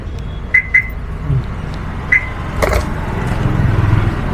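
A used car on a second-hand dealer's lot gives two quick remote-lock chirps close by, then a third single chirp, followed by a door thud and a rising low rumble of nearby traffic or engine noise.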